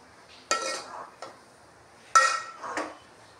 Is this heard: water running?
no